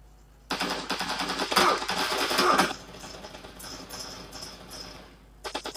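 Automatic gunfire from the battle royale video game PUBG New State, played on a 2018 Black Shark 1 phone, comes as a loud rapid burst of shots, then fades to quieter game noise and a few closing pops.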